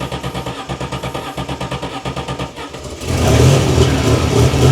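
Turbocharged DeLorean engine firing up on starting fluid, a rough rhythmic chugging crank that catches and swells into a loud, steady revving roar, close by with no talk.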